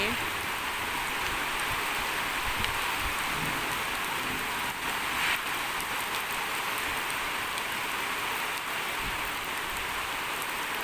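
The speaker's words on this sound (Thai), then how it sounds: "ฝนไม่ค่อยแรงเท่าไหร่เลยวันนี้" Steady, soft patter of light rain falling, continuous and even, with a faint hiss and no voices.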